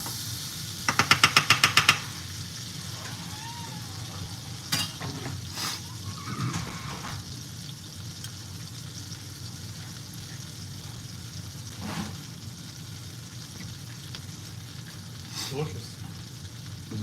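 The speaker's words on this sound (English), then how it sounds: "we're gonna scoop up our sandwich and then fry it up, toast it on top here" French onion grilled cheese sandwich frying in a pan, a steady low sizzle with a burst of rapid clicking taps near the start and a few soft scrapes and knocks afterward.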